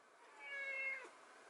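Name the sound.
cat meowing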